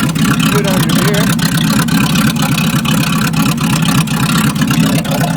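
1979 Chevy 350 V8 on its first cold start, running loud and steady with a rough, pulsing idle, close by, with people talking over it.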